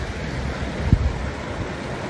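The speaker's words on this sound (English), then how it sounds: "We're hanging out with the surfers, waiting for the waves to roll in." Ocean surf rolls in at a beach near Portimão, Portugal, as a steady broadband wash mixed with wind noise on the microphone and a brief low thump partway through.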